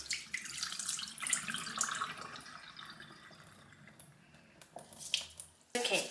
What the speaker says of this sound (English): So now we're going to rinse the rice again.